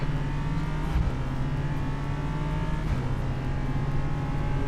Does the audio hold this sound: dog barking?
no